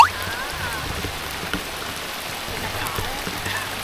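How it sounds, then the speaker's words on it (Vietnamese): Heavy rain pours down continuously in an even, dense hiss with scattered nearby drips, steady and close throughout, with no voices. "Quá trời mưa."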